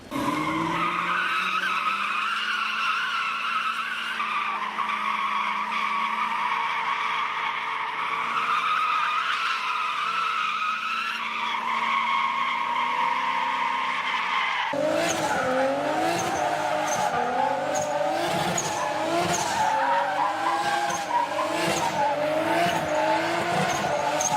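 A Nissan 240SX and a Lexus SC400 drift on a wet street, with steady engine roar and long tire squeal that shifts into a choppier, pulsing revving pattern halfway through, loud and close with no talking.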